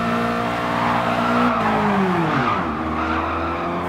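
An E30 race car in the video game Gran Turismo Sport at Tsukuba skids with a sharp tire squeal over its engine note, which drops as the car slides.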